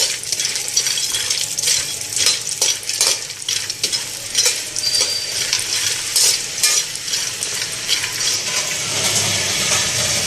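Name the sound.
roasting ingredients in ghee in a pan, stirring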